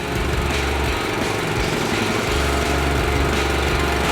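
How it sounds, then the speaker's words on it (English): A small engine on a farm sprayer runs steadily and loudly close by, with a constant low drone and a buzzing mechanical rattle. "See how quick he got that motor started?"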